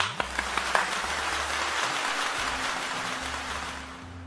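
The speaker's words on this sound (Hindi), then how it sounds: "जोरदार तालियों के साथ स्वागत करें आदरणीय वरिष्ठ कवि डॉक्टर रामनाथ राणा" An online poetry gathering's audience applauds to welcome a senior poet, a few sharp claps at first swelling into sustained clapping that slowly fades, moderately quiet.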